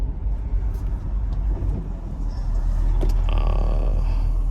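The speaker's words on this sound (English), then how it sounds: "You can literally just put in first, let go of the brake, and the car will start rolling." Manual-transmission car in first gear with the clutch eased out and no throttle, rolling away on a hill: a steady low engine and road rumble that swells slightly toward the end, heard from inside the cabin with no talking.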